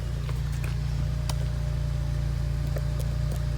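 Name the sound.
Acura TSX with DNA Motoring cat-back exhaust running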